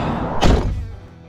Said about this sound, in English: at least I got a little bit of space to open the door and all that